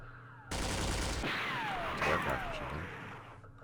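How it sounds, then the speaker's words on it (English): Sustained burst of machine gun fire in the Vietnam War strategy game Campaign Series Vietnam, a dense continuous rattle with descending whistling streaks, loud and steady for about three seconds before cutting off. "Machine gun."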